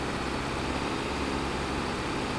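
A weak tractor pulling a baler in Farming Simulator 25 gives off a steady, dense engine drone with a low rumble, unchanging and with no talk over it.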